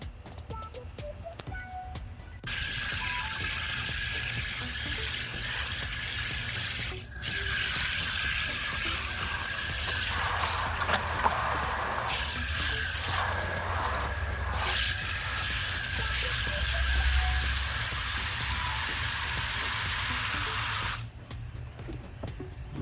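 Water running steadily from a tap while homemade super juice garden fertilizer is washed, a constant splashing rush that starts abruptly, dips briefly, and stops near the end, with no voices.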